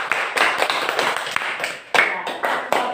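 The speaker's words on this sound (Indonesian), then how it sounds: "Tepuk tangan dulu untuk Filipus." A classroom of children claps for a student in a rhythmic, patterned burst of hand claps in short repeated groups, loud and close.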